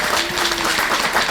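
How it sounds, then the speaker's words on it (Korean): A short burst of audience applause at a senior citizens' forum, many hands clapping together in a steady, fairly loud patter. "우리 그 박기석 관장님까지 그래서 큰 박수 한번 좀 부탁드립니다."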